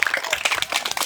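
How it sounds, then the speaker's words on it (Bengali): Audience applause for a contestant at a Bangladeshi bottle-cap flicking prize game, a dense, steady patter of many hands clapping close by for about a second. "সম্মানিত দর্শক শ্রোতা মণ্ডলী, আমাদের প্রতিযোগীর জন্য জোরে করে করতালি হয়ে যাক"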